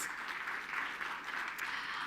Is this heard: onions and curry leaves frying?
no